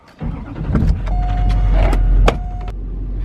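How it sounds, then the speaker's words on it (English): A Chevy Silverado pickup fitted with a snow plow starts up close by, then the engine idles steadily with a brief whine partway through. "I'm going to start this truck up and I'll back it in so we can put the salter on."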